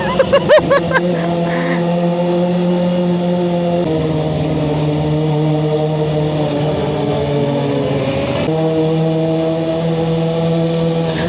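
A Kawasaki ZX25R motorcycle engine idles steadily with a low droning hum, its pitch shifting slightly as it revs, close by and continuous throughout.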